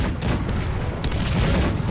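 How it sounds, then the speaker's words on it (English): Cannons fire in Cossacks 3, a rapid volley of booming shots cracking close together over a steady rumble of battle. "cannons are shooting the hussars"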